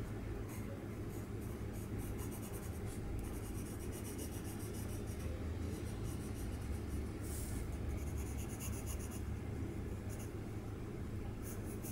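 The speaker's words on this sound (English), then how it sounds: "Using the side of my pencil," A pencil side is pressed firmly across paper to shade a value scale, giving a continuous soft rasping scrape that runs steadily throughout with no talk.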